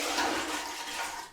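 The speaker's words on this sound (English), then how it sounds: "Just gonna get rid of this water." Shaving water drains from a bathroom sink in a brief, close, continuous gurgling rush, with no talking.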